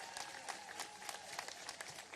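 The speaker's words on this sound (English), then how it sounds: "give yourselves a round of applause for being here" A crowd at an outdoor celebration of a new Capitol Park monument honoring Northern California tribes claps briefly, faint, steady applause with scattered sharp claps.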